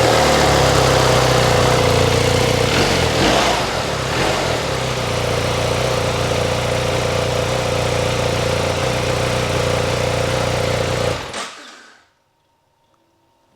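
A vehicle engine runs loudly close to the exhaust, a steady throbbing drone with a brief rising surge early on, then cuts off abruptly into near silence.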